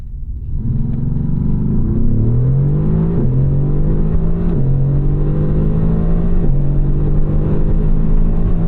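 A 2018 Mercedes-AMG GT R engine pulls hard to its 7,000 rpm redline, a loud, close, rising roar broken by brief dips at each upshift, with no talk.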